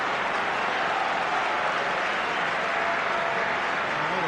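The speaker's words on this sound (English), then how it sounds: "So much applause around Highbury." A large football crowd applauds at Highbury stadium, a steady, dense wash of clapping and crowd noise that holds evenly throughout with no voices standing out.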